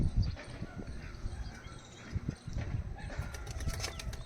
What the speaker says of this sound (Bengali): একদম কবুতার বাইরে বের হওয়ার জন্য ছটফট করছে